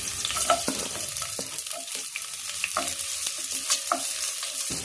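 Garlic and ginger sizzle in a hot pan for a home-cooked vegetable dish, with a steady frying hiss and repeated stirring scrapes of a utensil against the pan. Close and continuous, with no talking.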